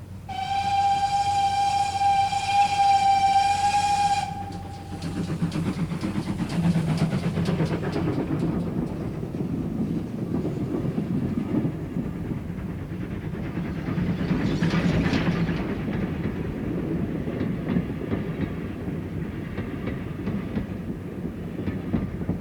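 A steam train on the Dart Valley Light Railway between Staverton and Ashburton in South Devon sounds a long, loud whistle, then rolls on with a steady rumble and rhythmic rail clatter that swells and fades.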